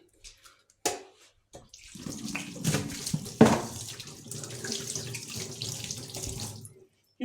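After a few small clicks and knocks, a kitchen tap is turned on and water runs steadily into the sink while hands are washed after cracking eggs, loud and close for several seconds, then it stops.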